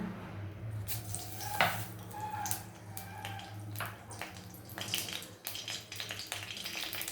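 Bay leaf, whole spices, cashews and raisins fry in ghee, giving a light, uneven crackling sizzle with scattered pops and stirring scrapes at close range, with no talking.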